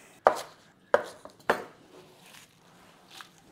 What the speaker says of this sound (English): these are just going to be cut into 1-inch pieces